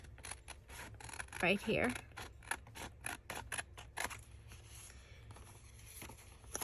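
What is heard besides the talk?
scissors cutting out a paper heart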